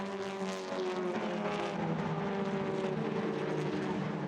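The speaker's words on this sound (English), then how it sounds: "This was when Andreas overtook him for 7th" TCR touring race cars race on a circuit, engines holding a loud sustained buzzing drone with layered overlapping tones as the cars run close together, no voices.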